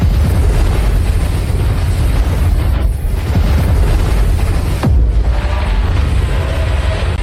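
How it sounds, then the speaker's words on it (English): The explosion of a direct weapon hit from a ship's weapon at sea, a loud, sustained rumbling boom with continuous roaring blasts and a couple of sharper bursts along the way. "A direct hit. The head exploded."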